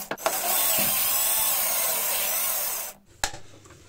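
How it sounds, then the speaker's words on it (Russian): A 15 mm drill bit bores a hole through a plastic bottle cap, giving a continuous high, grinding whir for about three seconds, then a brief stop and a short final burst. "первым делом нам необходимо просверлить в крышке отверстие сверлом на 15."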